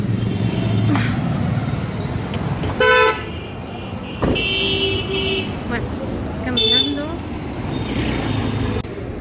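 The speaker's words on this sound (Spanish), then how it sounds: "Espero encontrar nada más que muchísimo tráfico. Esta es la hora pico" Heavy rush-hour street traffic at school time, with a steady roadway roar and several car horn toots, some long and loud, close by throughout.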